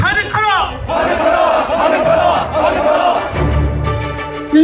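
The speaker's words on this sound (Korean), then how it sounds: "윤석열 탄핵과 새로운 세상을 향해 들불처럼 번지고 있는 이 함성들에 귀 기울이고 계실 줄 믿습니다" A crowd at an impeachment rally shouts in unison, a loud chorus of raised voices that swells and holds across several seconds with brief dips.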